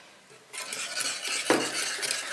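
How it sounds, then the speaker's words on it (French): A spoon stirs rose water into a lavender soap mixture in a bowl, making a steady close scraping and swishing that starts abruptly and continues, with one brighter clink of metal against the container midway. "Et je vais remuer."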